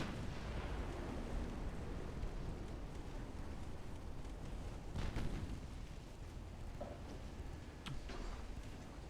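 6-inch naval guns firing in Ultimate Admiral Dreadnoughts, a rumbling wash of distant booms with a few sharper blasts standing out, fairly quiet under the battle noise and without talk.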